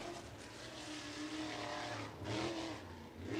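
USAC sprint cars running on the track at Lincoln Park, engines droning and rising in pitch as they pass, fairly faint and distant with a couple of louder surges.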